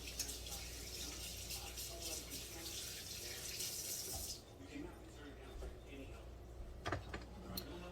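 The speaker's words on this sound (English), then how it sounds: "So let me wash my hands again." Water running from a kitchen tap while hands are washed, a steady broadband hiss for about four seconds that then cuts off, leaving quieter room noise with a few small clinks.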